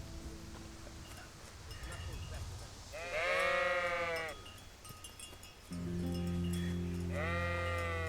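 Sheep in the medieval role-playing game Kingdom Come: Deliverance give two distinct wavering bleats a few seconds apart, fairly close and clear over a low ambient background.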